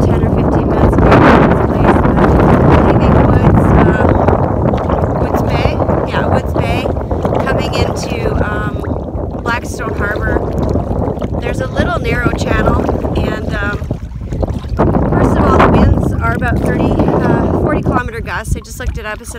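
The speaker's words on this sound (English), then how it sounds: "It said 40 kilometer gusts. And so it's strong wind." Strong gusty wind on open water near Port Rawson in Massasauga, buffeting the microphone while a kayak is paddled hard through rising waves, a continuous loud roar with surging gusts throughout.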